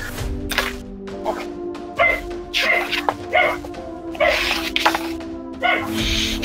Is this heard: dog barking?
yes